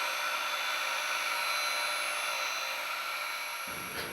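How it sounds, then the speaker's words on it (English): A diamond-polishing skive wheel being burned in with a synthetic diamond stick, giving a steady high whining, grinding drone that changes slightly near the end. "this will then be placed onto the skive, and we will start working in or burning in the skive to prepare it for the polishing process"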